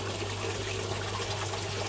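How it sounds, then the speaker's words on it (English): Water flows out of an aquaponics fish tank into a sump, a steady, fairly faint trickling rush with a low continuous hum underneath and no voices. "You can see some of the water returning out of the fish tank."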